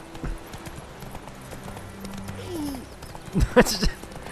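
Horse hooves clip-clop in a steady, moderate rhythm in The Witcher 3 video game, close and clear, with a louder clattering burst near the end.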